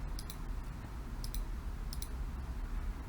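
Mouse clicks while working in SPSS statistics software, three crisp double clicks spaced about a second apart over a steady background hiss.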